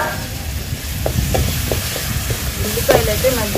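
Ginger garlic paste with green chilies frying in a pan before small fish go in, with a loud close sizzle and a few spoon scrapes and taps throughout.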